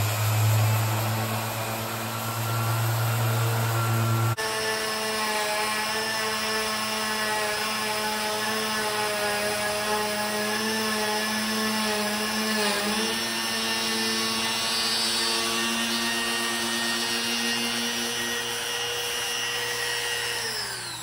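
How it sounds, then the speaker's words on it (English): An orbital sander runs steadily on a wooden cabinet top in a woodworking shop, a loud continuous whine and hum with a sharp shift in pitch early on, then holding constant throughout. "I'm having to resort to the orbital sander for this."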